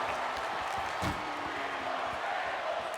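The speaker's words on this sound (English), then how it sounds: "Crowd getting fired up, chanting they want tables." A wrestling arena crowd chants for tables during a match, a dense continuous roar of many voices filling the space, with faint rhythmic chant pulses and occasional thuds beneath a steady wash of crowd noise.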